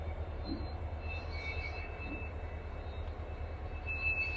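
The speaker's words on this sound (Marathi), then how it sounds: "पुरवते साधन सामग्री डबल इंजिनची गाडी घेऊन आलेली आहे" A double-engine train rumbles past close by at Wadwani, a loud, steady low-pitched drone with a continuous mechanical roar and no breaks.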